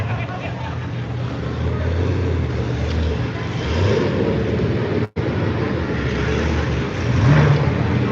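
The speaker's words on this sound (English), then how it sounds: "classic Corvette sound" A Corvette engine rumbles steadily with a deep exhaust note, swelling slightly in a couple of places, with a brief cut partway through and murmuring voices behind, at a car show in Carlisle.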